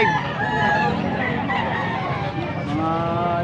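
A young stag rooster crows loudly and close, its drawn-out call rising over a busy backdrop of other fowl clucking and general farmyard noise at a poultry selling spot.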